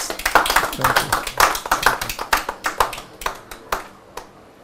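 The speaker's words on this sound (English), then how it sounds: "let's welcome Major General Edwin, Sam, retired, with a round of applause" Sparse, individually distinct hand claps from a live TV studio audience welcoming a retired major general, a dozen or so sharp slaps fading out near the end, with voices faintly underneath.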